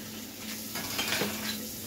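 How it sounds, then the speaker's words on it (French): Dishes being washed by hand: cutlery and pots and pans clatter and clink against each other over running, splashing water, close and continuous with a few sharper knocks. "je filme en faisant ma vaisselle"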